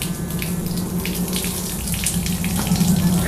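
Water runs and trickles steadily out of the bottom of a freshly watered potted dahlia, a close, continuous splashing flow with no voices.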